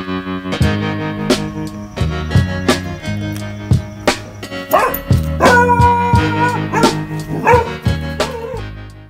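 A dog reacting to a doorbell barks in a short phone-shot home video: repeated sharp barks and yips, close and loud, over background music.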